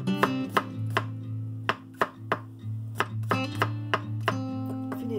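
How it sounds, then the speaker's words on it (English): Garlic cloves chopped with a knife on a cutting board, a steady series of sharp, close knife strikes in an irregular rhythm, with a low steady hum beneath. "I'm gonna chop this garlic."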